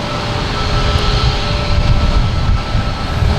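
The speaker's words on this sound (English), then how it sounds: "There's a Delta, an A220 heading to Austin." A Delta Airbus A220 jet roars steadily at Boston Logan Airport, a continuous broad engine rush heard from fairly close with no voices over it.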